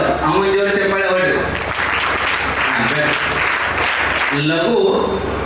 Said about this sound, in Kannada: ಅವನ ಜೋರು ಚಪ್ಪಾಳೆ ಹೊಡು.